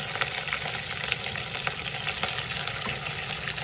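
Curry leaves, ginger and green chili frying in oil for coconut pepper chicken, producing a dense, even hiss-like sizzle with faint stirring clicks, no voices.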